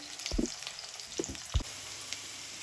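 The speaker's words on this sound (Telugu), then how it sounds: "మిరపకాయలు ఉల్లిగడ్డలు కొద్దిసేపు మగ్గాలండి" Chillies and onions sautéing in a pan before ridge gourd is added, a soft steady sizzle broken by a few thuds and clinks of stirring, no talk.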